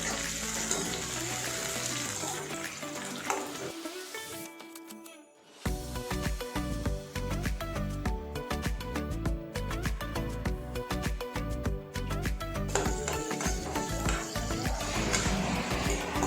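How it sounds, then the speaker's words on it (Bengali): Tomatoes fry in a hot pan and are stirred until they soften, with a steady crackling sizzle that drops away briefly midway and then returns as strong and dense as before. "টমেটোগুলো দেওয়ার পর আবার একবার ভালো করে নাড়াচাড়া করবো যতক্ষণ না গলবে টমেটোটা।"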